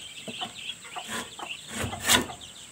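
Close chicken clucking, a handful of short calls building to one louder squawk near the end, over a constant faint hiss.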